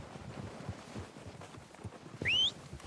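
Horses clip-clopping in Red Dead Redemption, a steady run of hoofbeats at moderate distance, with a brief whistle-like cry near the end.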